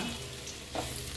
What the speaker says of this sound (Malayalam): ഇളക്കി യോജിപ്പിക്കണം.